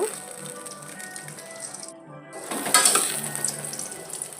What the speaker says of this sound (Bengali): এবারে একটা ঢাকনি দিয়ে এটাকে ঢেকে দেব।